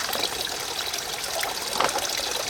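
Water trickles and gurgles into a 64-ounce water bag at a wet, rainy wild camp in the UK, a soft, close, uneven pouring with small splashy bursts and no talking.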